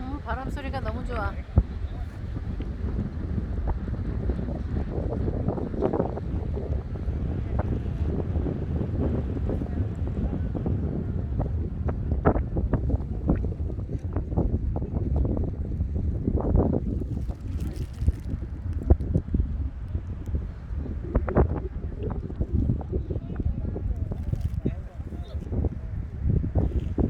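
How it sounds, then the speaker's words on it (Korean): Strong spring wind blows outdoors and buffets the microphone in continuous low rumbling gusts, with people talking faintly underneath throughout. "바람 소리가 너무 좋아."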